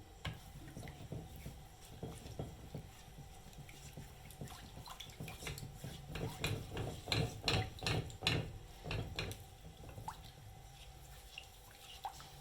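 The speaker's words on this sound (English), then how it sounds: "At this stage, I'm going to put it on fire as I continue mixing or stirring." Thick homemade chocolate pudding mixture stirred in a pot over the stove, giving soft wet scraping and dripping sounds in an irregular rhythm that grow denser and louder midway, heard close with no talk.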